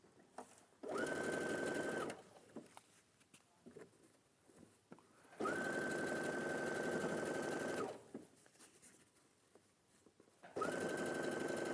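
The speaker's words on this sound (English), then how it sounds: "And I'm going to sew this" Sewing machine stitching fabric in three steady bursts of rapid mechanical whirring with a high motor whine, separated by quiet pauses filled with faint handling sounds.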